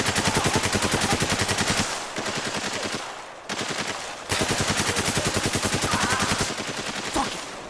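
Sustained automatic gunfire rattles in rapid, even bursts during a battle in the video game Spec Ops: The Line. It is loud and close, with a few short pauses between long volleys and no speech over it.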